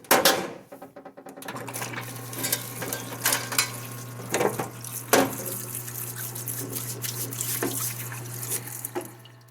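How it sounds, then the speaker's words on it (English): A shop parts washer sprays and splashes solvent over a rifle upper receiver while a steady pump hum runs underneath, with loud close bursts of sloshing and scrubbing clatter, no talking. "I'm going to stick this in the parts washer real quick"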